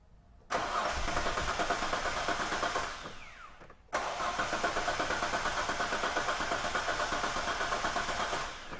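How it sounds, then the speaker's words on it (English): Hyundai Terracan with a misfire, engine cranking with the ECU relay fuse pulled: two long bursts of rhythmic starter churning, the first about three seconds, then a brief pause and a longer second crank, fairly close. "That's definitely better cranking."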